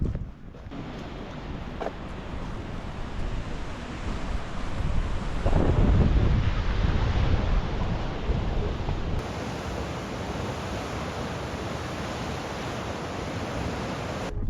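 Steady broadband roar of surf and gusting wind at an Australian beach, swelling louder for a few seconds midway before settling back to a constant wash, with no voices.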